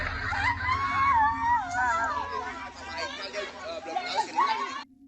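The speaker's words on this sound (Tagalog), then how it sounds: "Makikita sa video ang sigawan at takbuhan ng mga tao matapos nitong makita ang kakaibang nilalang na ito na nasa sasakyan" People scream and run in panic on seeing a strange creature on a vehicle, with shrill shouts and agitated crowd babble rising and falling, loud and close.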